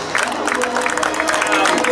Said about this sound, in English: let's hear a huge round of applause